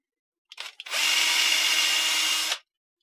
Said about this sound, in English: drill another little hole at the top here